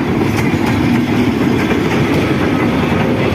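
The Bhawal Express passenger train rolls past close by, its wheels clattering loudly in a steady clickety-clack rhythm over a dense rumble.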